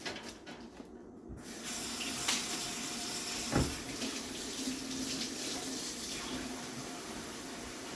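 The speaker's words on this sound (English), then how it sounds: "So excuse me while I turn my back again and rinse this off." Celery being rinsed under a running kitchen tap: a continuous close rush of water splashing into the sink, with a brief clunk midway and no talk.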